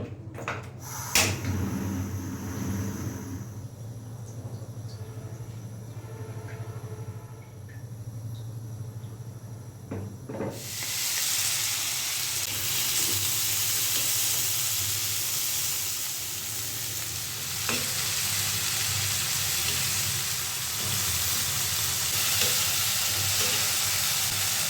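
A fish curry of sarputi fish with potato and snake gourd cooks in a pot. Quiet kitchen noise gives way partway through to a loud, steady, close sizzle that continues to the end.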